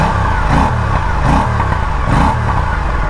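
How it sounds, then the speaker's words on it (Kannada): Aprilia RS 457 sport motorcycle engine revved from idle in three sharp, loud blips about a second apart, each rising and falling, with a steady rumbling idle between them and no talk. "ಸೂಪರ್ ಬೈಕ್ ಸೌಂಡ್ ಬರ್ತಾ ಇದೆ ಈ ಗಾಡಿಯಲ್ಲಿ"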